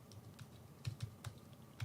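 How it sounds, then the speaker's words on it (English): Typing on a computer keyboard, soft irregular keystrokes tapping in a quick uneven rhythm, faint and slightly distant, with no talk. "I hear him typing away in his little find thing."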